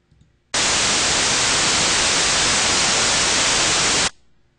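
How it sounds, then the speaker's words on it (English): A loud burst of steady white noise generated in Audacity hisses for about three and a half seconds, starting and stopping abruptly, with near silence before and after. "So now I have the option to overimpose white noise"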